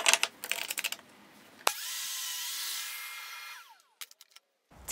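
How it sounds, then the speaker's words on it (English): A power tool cuts the corner off a wooden piece on a crosscut sled with an adjustable fence and stop block. Brief clatter comes first, then a loud steady whining cut of about two seconds that winds down, followed by a few sharp knocks. "first I'm just going to cut away at one of the corners, and I'm going to do that with my adjustable fence on my crosscut sled"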